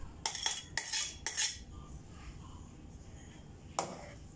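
A spoon stirs rava kesari with ghee, raisins and cashews in a pan, clinking close against the metal. A quick cluster of clinks is followed by a quieter stretch and one last scrape.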